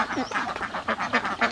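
Laying ducks on a duck farm quack in a quick repeated chorus, several nasal calls close together in an uneven rhythm, loud and near with no talking.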